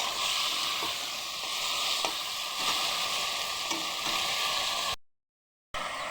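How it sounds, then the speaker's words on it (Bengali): Small pieces of chicken and potato fry in hot oil in a home kitchen, giving a steady close sizzle with stirring scrapes, alone without talk, then a brief dropout. "চিকেন দিয়ে আলু দিয়ে ভাজা ভাজা করে নেব আগে।"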